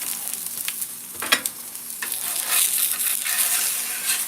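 An egg fries in a pan for a bacon egg muffin sandwich, a continuous crackling sizzle with scraping spatula sounds and a soft knock as it is loosened and flipped, no voices.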